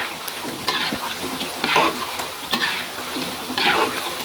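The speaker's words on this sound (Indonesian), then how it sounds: "Kita goreng lagi selanjutnya." Tapioca crackers fry in hot oil with a steady loud sizzle, punctuated by periodic stirring scrapes and clinks of a utensil against the pan.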